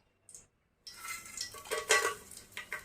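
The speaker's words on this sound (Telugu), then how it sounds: "మనం ముందుగా తీసుకున్నటువంటి బిర్యానీ దినుసులు వేసుకుందాం." Whole biryani spices dropped into hot oil in a pan, a brief faint hit followed after a pause by a steady close sizzle and crackle with clinking of a utensil against the pan.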